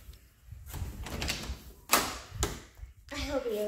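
A door bangs and thuds a couple of times, loud and close, with voices talking around it and a short squeaky sound near the end.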